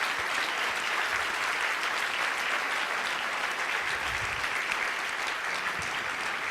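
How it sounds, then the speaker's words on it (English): A room full of attendees at an evening leadership event applauds the speaker's mother, a dense, even wash of clapping held at a steady level throughout. "If you could give her a round of applause."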